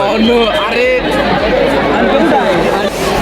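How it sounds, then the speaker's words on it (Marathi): A dense, loud crowd fills a university convocation ceremony with close, continuous overlapping chatter and no pauses. "किती गर्दी आहे"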